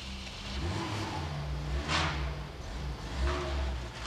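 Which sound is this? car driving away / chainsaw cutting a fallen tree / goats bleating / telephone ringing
car driving away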